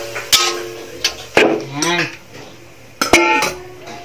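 Metal utensil stirring menudo in a cooking pot, giving three sharp, loud clanks against the pot spaced a second or more apart, with a short voice between them.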